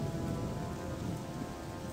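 Steady rain falling in a video game world, a dense, even patter with low rumble beneath, soft and constant with no voices.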